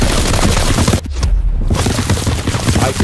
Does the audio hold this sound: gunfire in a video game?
yes